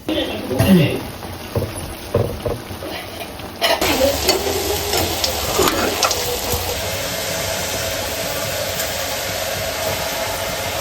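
Mutton frying with onion and garlic in a pan, a loud continuous sizzle with stirring scrapes throughout.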